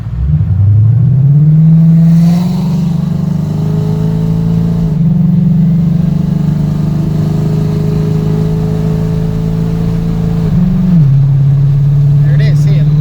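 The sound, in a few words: 2015 Ford Mustang Coyote engine driving, converter locking in third gear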